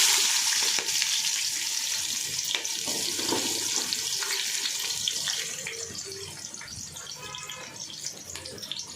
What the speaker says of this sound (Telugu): ఆయిల్ వేడెక్కింది ఫ్రెండ్స్ ఇప్పుడు బిర్యానీ సామాన్ మొత్తం వేసుకుంటున్నాను